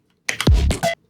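A short glitchy electronic hit built from Korean barbecue cooking audio: a quick cluster of clipped, stuttering bursts with a brief low thump, lasting well under a second and ending abruptly in silence.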